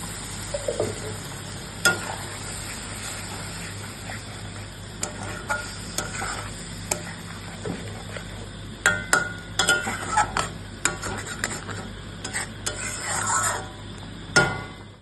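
Water hitting a hot pan coated with leftover spices, sizzling steadily with sharp crackles and bursts, plus intermittent scraping and clinking of a spoon stirring, close and loud with no talk.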